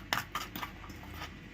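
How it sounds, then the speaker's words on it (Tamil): Utensils mix ingredients together in a container for a jelly preparation, making a few faint, close clinks and scrapes with quiet pauses between. "இப்போ இதை எல்லாத்தையும் மிக்ஸ் பண்ணி ஒரு கலவையாக கலக்க போகிறோம்."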